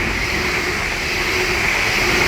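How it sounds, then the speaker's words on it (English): Class 350 London Northwestern Railway electric trains pass at Watford Junction station on the West Coast Main Line, giving a loud, steady rushing roar with no voices. "We're about to have a London Northwestern Railway lot of class 350s pass by from Rugby to London Euston"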